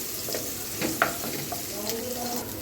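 Onion and fried eggs with garam masala sizzling in a pan while being stirred, a close continuous frying hiss with intermittent scraping and clinking of the spoon.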